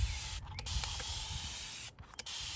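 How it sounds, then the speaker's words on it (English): Handheld spray bottle misting water onto delicate bitterleaf seeds, two short soft hissing sprays, close and quiet. "grab either a spray bottle like this one, fill it up with water, and then just spray"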